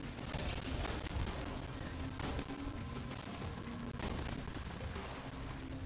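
Rapid, sustained gunfire from a huge-magazine weapon in Borderlands 2, a dense stream of shots and impact bursts with a few sharper blasts standing out, loud and continuous throughout.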